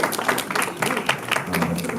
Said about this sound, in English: I want to give Empower DC a round of applause for organizing this